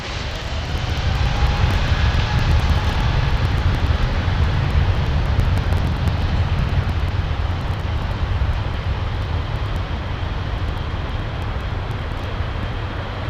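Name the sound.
Airbus A350 jet taking off at Heathrow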